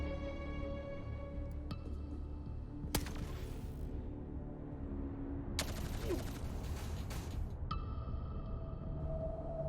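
Gunfire in the video game Xenonauts 2: several loud broadband bursts of shots ring out over a constant game music and ambience bed, with a long sustained volley in the middle of the sequence.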